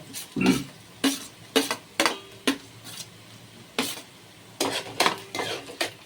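Onions and pulao spices roasting in a pan for a home-style curry, with a spoon stirring and scraping in repeated bursts over a soft sizzle, close and fairly loud with no talking.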